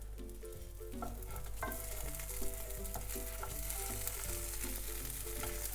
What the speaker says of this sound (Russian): И недолго обжариваю под закрытой крышкой